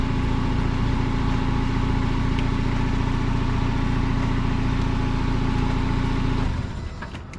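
A car engine idles with a loud, steady rumble, then is switched off near the end, its drone dropping away and fading into quiet.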